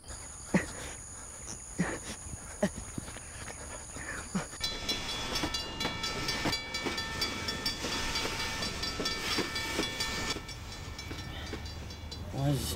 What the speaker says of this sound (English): Why is this train so fucking long?